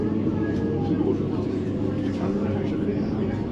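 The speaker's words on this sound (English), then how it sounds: "This is the train to Abbey Wood." Elizabeth line train travelling from Custom House toward Woolwich on the way to Abbey Wood, a steady low rumble of wheels and motor inside the carriage, continuous and fairly loud, with faint tonal whines over the rail noise.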